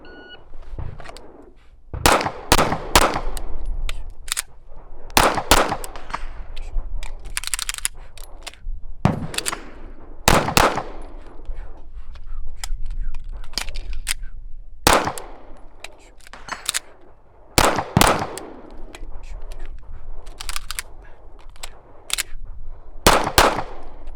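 A Staccato P pistol fires repeatedly, sharp loud reports coming singly and in quick doubles and triplets, separated by short pauses across the whole stretch, with faint outdoor background between shots.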